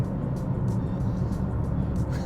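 Heard from inside, a Nissan GT-R NISMO N Attack drives gently to warm up, its engine and road noise a low, steady rumble with no talking.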